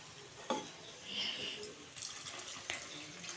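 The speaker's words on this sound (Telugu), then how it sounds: "ఇప్పుడైతే గ్లాస్ వాటర్ వేద్దామండి." Water from a glass poured into a pan of egg curry, a dry-style egg masala, giving a soft splashing pour with light sizzling and stirring, near and moderately quiet, without talk.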